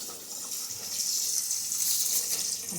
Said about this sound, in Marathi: नाचणी स्वच्छ धुवून घेणार आहे मी एक दोन तीन वेळा धुते चांगली